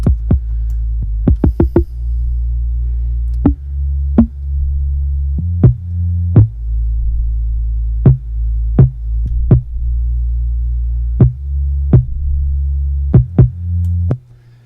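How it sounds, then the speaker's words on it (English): Punchy hip hop kick drum repeating in a loose beat pattern, each hit a loud thump over a steady low hum, its tone shifting as an equalizer sweep moves through its frequencies; no voices. "sweep through these frequencies as the kick drum is playing"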